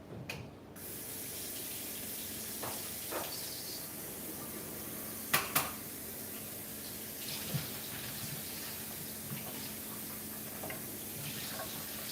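A kitchen tap runs steadily to rinse mushrooms while cooking bak kut teh, a soft continuous splashing stream with a few clinks partway through.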